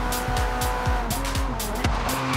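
Car tires skid and squeal in Forza Horizon 3 in a string of short, loud screeches that come in quick succession over a steady engine drone, all heard up close.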